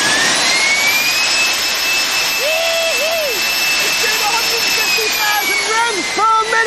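A small jet engine mounted on a skateboard and held by a safety tether runs at a steady high-pitched whine with a tonal scream, loud and continuous, while short voiced bursts cut in over it near the end.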